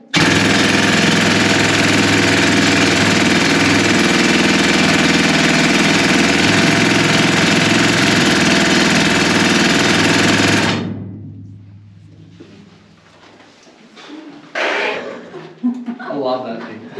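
A mining drill bores a hole underground, roaring loud and steady at full power for about ten seconds before cutting out abruptly, followed by quieter clanks and shuffling.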